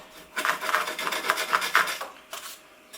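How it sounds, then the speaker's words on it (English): Repeated rough scraping strokes against a stainless steel baking sheet, a quick run of close rasping pulls followed by a couple of softer scrapes, in a home kitchen while making oven chips. "That's the beauty of using a stainless steel baking sheet."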